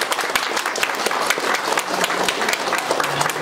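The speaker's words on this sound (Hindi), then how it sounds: "अपने स्थान पे खड़े होके अपने लिए जोरदार ताली बजाइए" A seated audience that has been asked to stand claps loudly and continuously in dense, crackling applause throughout, with a faint murmur of voices underneath.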